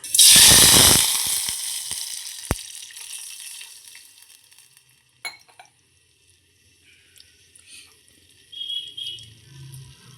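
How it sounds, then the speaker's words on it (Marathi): Water is poured into a hot pan of roasted whole spices such as cinnamon and cloves, giving a loud burst of hissing sizzle that fades, followed by faint clinks and quiet bubbling. "हे भाजलेलं आहे त्याच्यामध्ये पाणी ॲड करूया"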